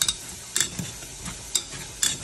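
Cooked black beans being mashed in a pan without oil, giving soft intermittent scraping and squishing strokes at an uneven rhythm, close and fairly quiet with no talking.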